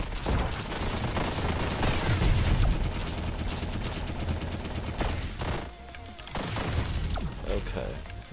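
A self-defense turret in the video game One Step From Eden fires back in dense bursts of rapid gunfire and impacts, loud and continuous with a brief lull before resuming, mixed with game effects and a voice talking over it.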